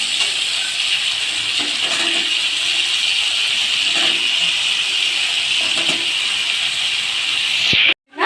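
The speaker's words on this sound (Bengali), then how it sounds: "আলুগুলো আস্তে আস্তে একটু ভেজে নেব, লাল করে একটু আলুগুলো ভেজে নেব" Potatoes fry in a pan with a steady, close, loud hiss of sizzling oil. A few faint clinks sit underneath, and the sound stops abruptly near the end.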